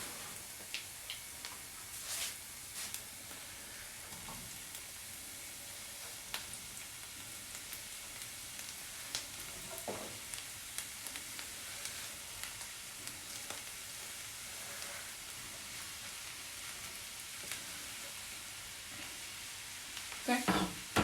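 Onions and apples fry quietly in a pan, a soft, even sizzle with small ticking pops and occasional utensil scrapes, ending in a brief clatter.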